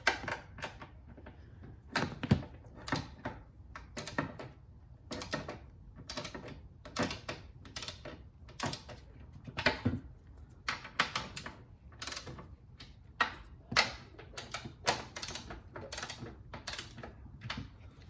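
A wrench ratchets strut tower brace bolts into place on a Subaru WRX STI, rapid close clicking bursts repeating in uneven runs with brief pauses, clear against a quiet garage background.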